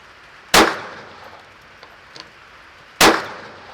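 Two sharp pistol shots crack outdoors about two and a half seconds apart, each loud and close with a brief ringing decay, and faint ticks in the pause between them.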